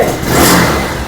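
A second-hand BS4 sports motorcycle from 2018-19 revs its engine at a Kolkata used bike showroom, a short close, loud rising roar with no talk.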